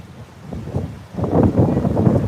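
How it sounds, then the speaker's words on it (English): Big surf rolls onto Fort Lauderdale beach in the morning as a deep, rushing roar, muffled by heavy wind buffeting on the microphone. It swells much louder partway through and stays strong to the end. "The waves are big. Surf is up."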